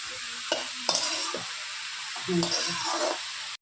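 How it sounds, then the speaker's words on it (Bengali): Banana stem and chili sautéing in a pan, with a steady close sizzle broken by scraping stirs and a few sharp utensil knocks, and a faint voice briefly underneath. "এখন আর একটু লঙ্কা দিয়ে একটু কষিয়ে নেব"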